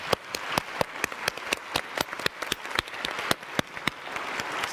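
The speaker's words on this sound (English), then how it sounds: "Again, a round of applause to the great panelists." A conference audience gives a round of applause for panelists, with sparse, steady hand claps from a modest crowd, fairly close and without talk.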